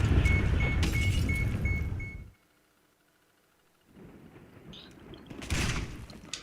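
Shotgun fire in the video game GTA 5 Online, loud bursts of gunfire in the first two seconds, then near silence before scattered game noise and another sharp blast return.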